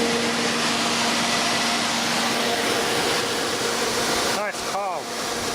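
A second-hand evaporative swamp air cooler runs loudly and close with a steady broadband whoosh and hum throughout, and a brief warbling whine near the end.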